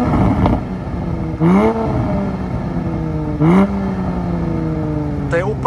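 A 2020 Porsche Cayman with a stock exhaust, switched to sport mode, gives three short throttle blips at about two-second intervals. Each rev climbs and falls back to a steady idle, loud and close.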